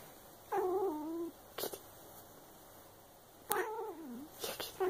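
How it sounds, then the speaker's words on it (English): A cat gives two drawn-out, wavering meows, close and fairly clear, with short sharp noises between them and a faint steady hum underneath. "Kitty. Where's the kitty?"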